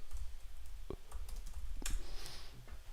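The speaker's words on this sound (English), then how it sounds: "I should just type it in." Typing on a computer keyboard, a quiet run of irregular key clicks and taps at close range, alone with no talk.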